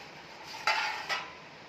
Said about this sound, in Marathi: झाकण ठेवत आहे.